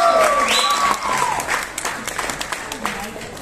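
Audience applause at a film trailer launch event, a burst of clapping from a crowd with a voice over a microphone at first, fading into scattered claps.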